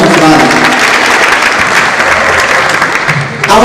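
Loud, dense audience applause fills a university event hall in Kenya, steady and continuous from start to finish, with a faint murmur of crowd noise underneath.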